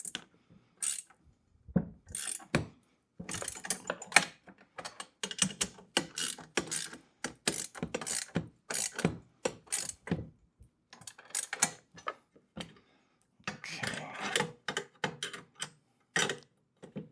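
A hand ratchet tightens bolts on a heavy-duty four-wheel garden dump cart, with bursts of rapid clicking pawl strokes repeated in short runs and pauses, close and clear with no talking.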